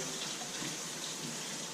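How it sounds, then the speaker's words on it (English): Warm tap water runs steadily into a kitchen sink as hands are washed with soap after handling raw chicken, a continuous close splashing hiss with no talk. "Make sure to wash your hands thoroughly."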